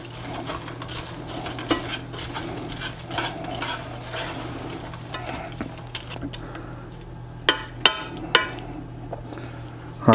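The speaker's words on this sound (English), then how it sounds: "And stir this all together." Frozen peas being stirred into a rabbit pot pie filling in a pan, with a steady soft scraping and gentle sizzle throughout and a few sharper utensil knocks against the pan near the end.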